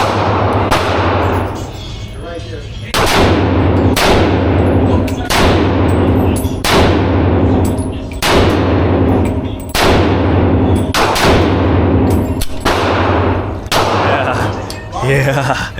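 Loud, close gunshots from a Glock 19X pistol fired with a 17-round magazine, a series of sharp cracks spaced roughly a second apart with ringing decay between them, about a dozen shots.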